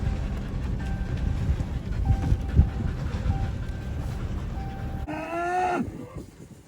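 Rumbling barnyard noise gives way to a single loud, drawn-out cow moo close by near the end.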